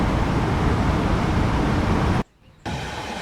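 A test train running in Germany in the video game Train Sim World 5, a loud, steady broadband rolling rumble that cuts to near silence for a moment before resuming.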